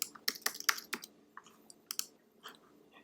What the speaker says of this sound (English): So we're going to type in port.